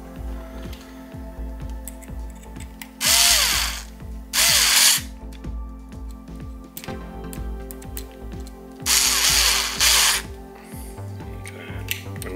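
A power drill drives screws into the dual 4020 fan duct on an Ender 3 V2 3D printer. It gives three short, loud whirring bursts over a background of faint, regular ticking.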